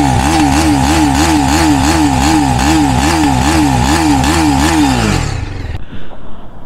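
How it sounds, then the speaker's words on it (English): A TVS Apache RR 310 motorcycle engine revs loudly in repeated rising and falling pulses for about five seconds, then drops away and cuts off near the end. "when I rev the bike"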